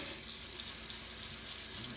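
A tap runs steadily into a sink while someone waits for the water to warm up before rinsing parts of an old Apple IIe computer, giving a constant close hiss and splash with no talk.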